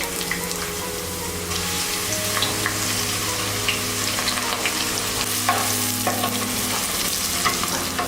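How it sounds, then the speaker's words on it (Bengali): Onions sizzle and crackle steadily in hot oil for a fish and potato curry, a continuous frying hiss with occasional stirring scrapes from the pan. "প্রথমে আমি পাত্রে তেল দিয়ে নিলাম এক মিনিট তেলটাকে গরম করে আমি এর মধ্যে এখন পেঁয়াজ দিয়ে দিচ্ছি"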